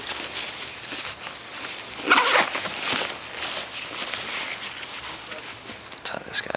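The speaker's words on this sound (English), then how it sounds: "you have it by undoing that zipper." The zipper on an Osprey Atmos 50 backpack is pulled open, a short rasping run around the middle amid fabric rustling and handling noise, fairly close.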